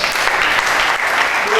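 An audience at an inter-school debate claps loudly and steadily, a dense burst of applause filling the hall.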